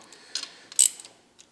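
Intake manifold bolts on a Gen2 LT1 engine with an EFI single-plane intake being snugged semi-tight by hand: a few short, quiet metallic ratchet clicks in irregular bursts, with no talking.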